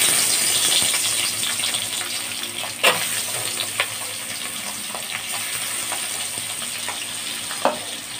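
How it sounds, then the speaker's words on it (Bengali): Tangra fish fry in hot mustard oil in a wok, a steady close sizzle with occasional sharp pops and spatters and a faint scrape, with no talk. "ট্যাংরা মাছ ভাজার সময় খুব তেল ছিটকায়"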